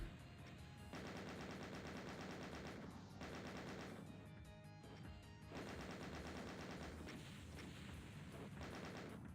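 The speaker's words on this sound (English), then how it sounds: "Yeah, just keep firing at the wall." Rapid, continuous gunfire in the Doom video game, weapons shot repeatedly at a wall, loud and dense bursts with brief gaps, heard over game audio.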